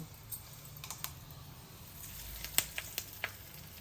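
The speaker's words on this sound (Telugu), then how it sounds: "కరివేపాకు కూడా కొద్దిగా వేగనిచ్చి పచ్చడిలో కలిపేసుకుందాం" Curry leaves sizzle faintly in hot tempering oil for tomato chutney, with scattered sharp crackles and pops over a low, quiet background hiss.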